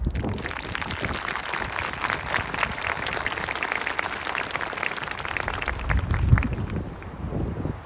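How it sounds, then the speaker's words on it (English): Crowd at a military basic training graduation applauding the drill sergeants, dense sustained clapping from many hands, outdoors with some wind buffeting the microphone. "Please join me in a round of applause for the drill sergeants"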